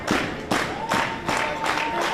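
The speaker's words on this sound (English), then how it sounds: "Great crowd here in Brooklyn tonight, trying to urge Keoka on." Wrestling crowd in a Brooklyn arena cheering and clapping during a tag-team match, broad roaring swells rising and falling in waves, with a few sharp slaps or thuds cutting through.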